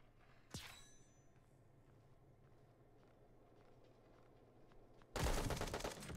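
Gunfire in the mobile shooter Bullet Echo: a single sharp shot near the start, a quiet stretch with faint footsteps, then a loud, rapid burst of automatic fire at the end.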